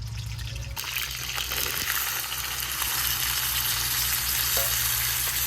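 Boiled chickpeas and potatoes hit hot oil in a village kitchen pan, a sharp burst of sizzling after an earlier low hum, then continuous frying hiss with faint stirring.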